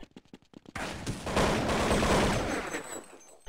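Counter-Strike gunfire on de_dust2 during a competitive esports match, a short burst of separate shots followed by a loud, sustained stretch of rapid firing that fades toward the end.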